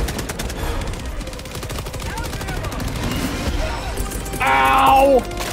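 Rapid automatic gunfire rattles continuously in a video game, dense and loud throughout, with a brief burst of brighter electronic effect near the end; no clear speech stands out.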